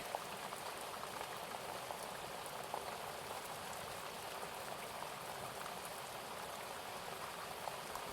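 Steady rain falls continuously, a soft, even patter and hiss with no breaks and no voices, suited to a calm bedtime atmosphere.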